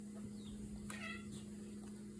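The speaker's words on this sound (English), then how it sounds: "I just stepped on the cat." A house cat lets out a short, faint meow right after being stepped on, a single brief wavering cry over steady background hum.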